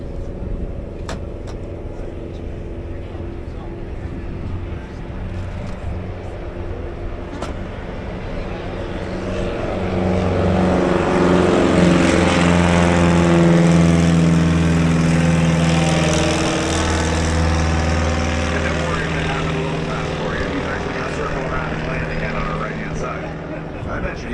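A small floatplane's propeller engine drones in Alaska, growing louder as it nears and peaks mid-way, then slowly fading while still audible.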